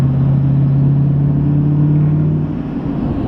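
An L5P Duramax diesel pickup fitted with an S369SXE turbo pulls hard, its engine drone steady and loud throughout and easing slightly near the end, heard up close with no talk.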